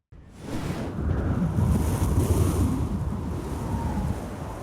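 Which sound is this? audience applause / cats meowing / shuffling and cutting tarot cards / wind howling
wind howling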